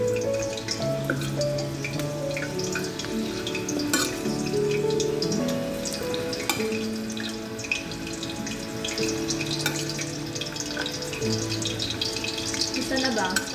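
Meatballs fry in a hot pan in a home kitchen, giving a steady bright sizzle that runs without pause and stays fairly loud. A faint tonal hum sits underneath, and no one speaks.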